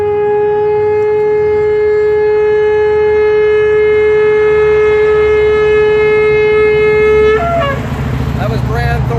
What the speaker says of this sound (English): We're going to let Brand go ahead and blow his shofar for a second.